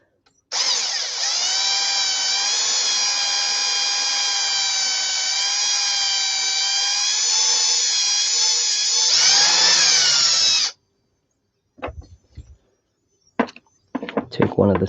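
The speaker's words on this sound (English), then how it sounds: "can basically just drill" A power drill bores into the body shell of a Kyosho Fazer Mk2 RC rally car, whining steadily and loudly for about ten seconds before stopping, followed by scattered clicks and handling noises.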